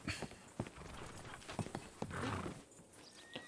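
A horse's hooves clip-clop in uneven, close steps on a hard surface, with a whinny breaking in partway through.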